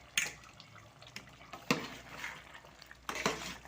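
A spoon scrapes and clinks through chicken curry with coriander powder in a pan, several sharp knocks and scrapes at irregular intervals over a faint sizzle.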